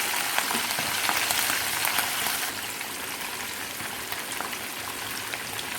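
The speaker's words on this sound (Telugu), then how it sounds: "అదే నూనెలో మిగిలిన ముక్కలు కూడా వేసి వేయించేసుకుంటున్నాను" Pieces of fish fry in hot oil, giving a steady, dense crackling sizzle that eases slightly partway through and continues without pause.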